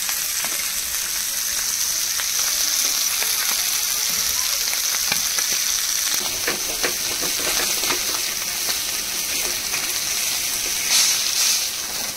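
Fish sizzling and crackling steadily in hot refined oil, a dense continuous frying hiss, close and loud, with occasional sharper pops throughout.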